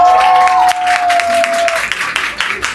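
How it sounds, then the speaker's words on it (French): An audience applauds for a performer named Ariana, with a short burst of scattered clapping and crowd noise mixed with a voice and a fading held musical tone. "Applaudissez s'il vous plaît pour Ariana."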